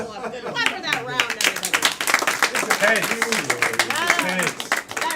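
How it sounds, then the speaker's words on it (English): A live audience claps after a round of an improv-style game at a comedy show, a dense burst of hand claps with cheering voices and a host talking over it. "Clap for that round,"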